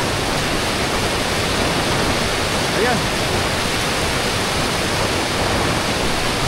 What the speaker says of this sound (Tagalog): dito tayo nakatayo ngayon kung saan dumadaan yung tubig